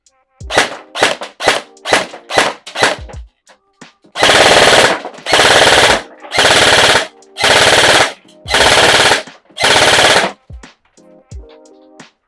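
A Poseidon Theseus airsoft gun fires on full auto with a built-in green tracer unit: a few quick short bursts, then six longer loud bursts of rapid mechanical fire with brief pauses between, very close.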